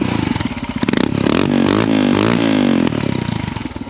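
A Royal Enfield Himalayan single-cylinder motorcycle fitted with a Lextek exhaust with the baffle removed, revving hard close up: a loud, throaty thump that rises sharply in pitch, holds, then drops back to a lumpy idle.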